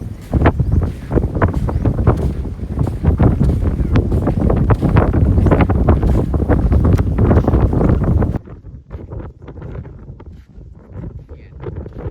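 Strong, steady wind buffets and roars across the microphone for several seconds, then drops abruptly to a quieter gusty rustle.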